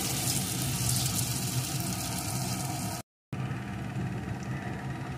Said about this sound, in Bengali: এখন আমি যে ধোকাগুলো তৈরি করে রেখেছিলাম ওইগুলো একটা একটা করে দেব আর ভেজে নেব